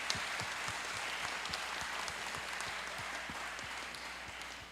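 Church congregation applauding a newly appointed vice-leader, sustained rhythmic clapping from a crowd, fairly distant and quiet, with a regular beat suggesting clapping in time, steady to the end.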